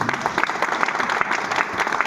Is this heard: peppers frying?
no